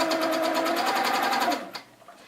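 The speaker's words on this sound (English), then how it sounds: "I'm just going to anchor those down with one hand and start sewing with the others" A Handi Quilter quilting machine stitches fabric in a steady, rapid mechanical whir with pulsing needle strokes, then slows and stops near the end.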